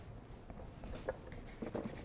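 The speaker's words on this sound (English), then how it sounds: "I'm going to scrub it in crisscross strokes" A stiff, wide paintbrush scrubs paper in crisscross strokes, giving soft, quiet scratchy brushing with a few slightly louder strokes, and no talking.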